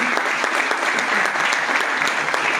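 Sustained, dense applause from a large audience at a Modicare network-marketing training event, steady and even throughout with no pauses.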